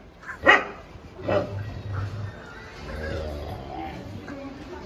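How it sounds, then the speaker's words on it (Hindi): A dog barks sharply twice close by at night, followed by a low growling rumble, while people shout and talk excitedly around it. "कुत्ते ने पकड़ लिया रे"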